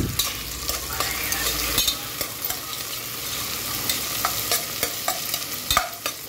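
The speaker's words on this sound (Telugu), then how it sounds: "కలర్ చేంజ్ అయ్యే వరకు ఫ్రై చేసుకున్నాము." Sliced medium onions for prawn biryani fry and crackle steadily in a pan, with a continuous sizzle broken by sharp stirring scrapes and clatters, close and fairly loud, with no talking.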